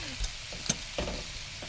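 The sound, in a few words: onions and sausages frying in a pan in a camper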